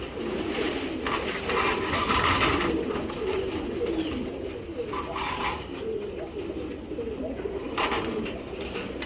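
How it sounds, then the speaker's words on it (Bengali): Racing pigeons coo softly and repeatedly in a loft, their low murmuring calls layered over one another in a steady, close chorus with faint background noise. "এটি হলো ভিডার কবুতর"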